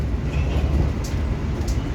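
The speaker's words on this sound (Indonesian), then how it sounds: "Sesaat lagi kereta api Argo Bromo Anggrek akan segera mengakhiri perjalanannya di stasiun Surabaya Pasar Turi" Argo Bromo Anggrek passenger train running on the Jakarta–Surabaya line, a steady low rumble and rolling roar heard from inside the carriage, constant and moderately loud with no talking.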